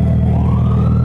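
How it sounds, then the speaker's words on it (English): An ambulance siren wails on a street: one short, loud, steady tone that bends slightly upward, with no talking. "Gotta be ambulance."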